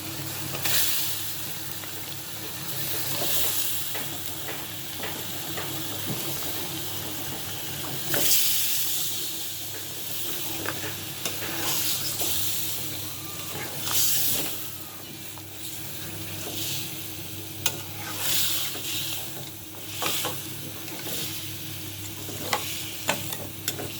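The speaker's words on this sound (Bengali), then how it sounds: "মশলা তো আমার কষানো হয়ে গেছে এখন আমি মাছগুলো দিয়ে দিব" Large fish head pieces sautéing in spice masala in a pan, giving a continuous sizzle and hiss broken by repeated scraping and stirring clatter, with no talking.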